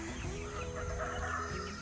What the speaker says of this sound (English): I love the farm in the morning, all the roosters crowing, the sound of hens laying eggs